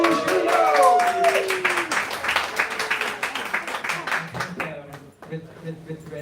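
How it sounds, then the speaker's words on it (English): Audience applause with distinct individual claps ringing out at a talk on artificial intelligence, overlapping a voice and some tonal sounds early on, then thinning to sparse claps as music-like tones come in. "A warm applause for the technical geniuses and for Rouge"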